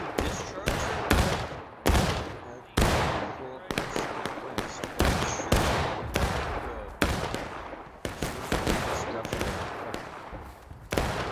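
Ragged musket volleys crack out again and again in a War of Rights battle, a dense run of sharp reports with uneven gaps, some shots near and loud, others overlapping in rolling bursts.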